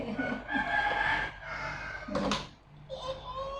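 A rooster crows loudly nearby, a long strained cock-a-doodle-doo, with a brief squawk and faint clucking after it.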